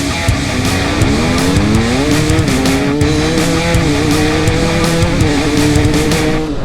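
A Motopro 300 RR and a KTM 200 motorcycle accelerate hard side by side in a drag race, loud close engines climbing through the gears with rising, stepping pitch and no talk.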